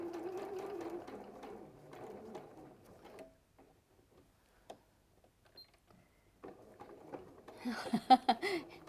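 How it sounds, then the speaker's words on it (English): A domestic sewing machine stitching a few stitches forward and then back at slow speed, with short mechanical bursts separated by pauses and a louder rattling run near the end. "So I'm going to do a stitch hopefully forward, and then a couple of stitches back."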